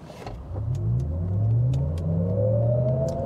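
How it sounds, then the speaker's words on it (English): A Cadillac Lyriq AWD electric car accelerating hard from a standstill, its synthetic propulsion tone climbing steadily in pitch over a rising whir of motor and road noise, close and fairly loud with no talking. "It also makes a fake propulsion sound."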